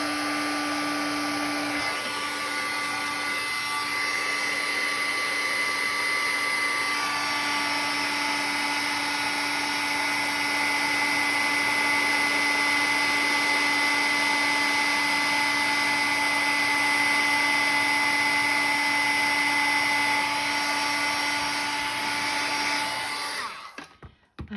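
Heat gun blowing steadily to melt embossing powder on a card, a continuous whirring hiss with a high whine that holds for the whole stretch and cuts off at the end.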